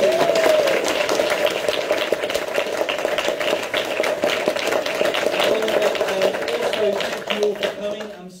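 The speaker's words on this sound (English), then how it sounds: "can we give our candidates all a round of applause?" An audience at a general election hustings in Stapleford applauds the candidates with sustained, steady clapping that fills the room, while a voice carries over the noise.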